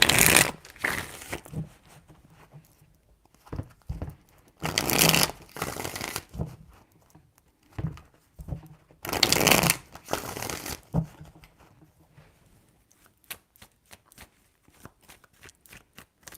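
A deck of tarot cards is shuffled in several separate bursts, with crisp riffling and rustling close by and short quiet pauses between the shuffles, with no voices.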